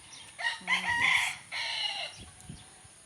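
A rooster crows on a rainy, dark morning in a backyard garden, one full cock-a-doodle-doo that rises, holds and trails off, fairly close and clear, followed by fainter background sounds.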